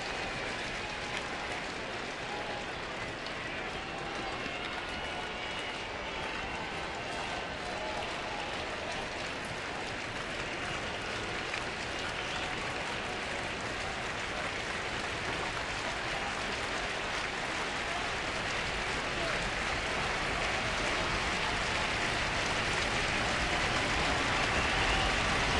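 Dense crowd applause and cheering fill a baseball stadium during a Baltimore at Toronto game, a continuous broad roar that holds steady and swells slightly toward the end.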